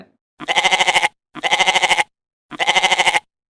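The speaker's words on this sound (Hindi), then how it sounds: "इधर बकरी की आवाज सुनकर हरिया जाग जाता है" A goat bleats three times, loud and near, each call a wavering, pulsing cry about half a second long with short pauses between them.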